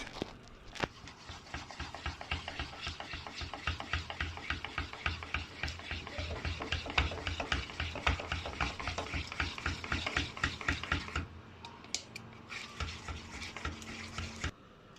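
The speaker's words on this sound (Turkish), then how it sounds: "Ve çırpmaya devam edeceğiz." Tiramisu cream mixture with cheese being whisked in a bowl, a steady rapid rhythm of close, busy strokes throughout, slowing into a few sparse scrapes near the end.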